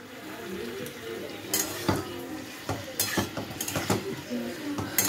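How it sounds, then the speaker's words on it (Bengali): Chicken frying in a pan with already-fried onions gives a steady sizzle, broken by the scrape and clank of a spatula against the pan as it is stirred at intervals. "চিকেনটা দিয়ে দিয়েছি, চিকেনটা একটু ভাজা হোক"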